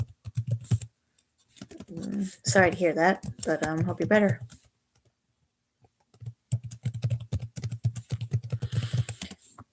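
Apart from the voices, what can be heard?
typing on a computer keyboard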